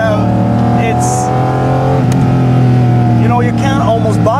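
A Porsche GT4 RS engine hums loud and steady from inside the cabin, its tone stepping and shifting as gears change, with brief voices talking over it.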